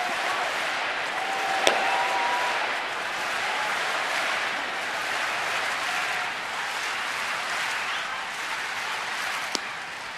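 A large crowd at a night baseball game between the Marlins and the Nationals in Washington cheers steadily, a broad distant roar holding for ten seconds with a couple of sharp cracks on top.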